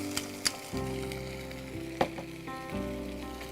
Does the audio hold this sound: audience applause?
no